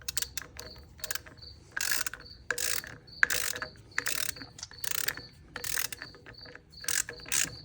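A ratchet clicks in quick bursts while cranking down a valve spring compressor on a 6.7 Cummins engine in a 2007 Ram 2500, rhythmic and close, with short pauses between strokes.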